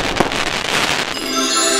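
Fireworks bursting in a Plotagon animation, a dense run of loud crackling pops and bangs filling the whole moment with no talk over them.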